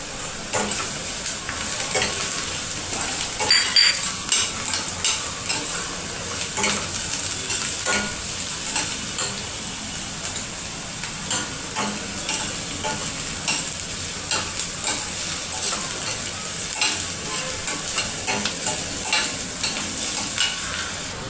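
Chopped onion and green chilies frying in hot oil with a continuous crackling sizzle and frequent scraping stirs of a utensil against the pan, close up and sustained.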